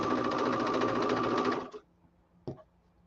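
Sewing machine stitching a quarter-inch quilting seam, a steady fast whir of needle strokes for about a second and a half, then stopping, followed by a short thump and a brief clack.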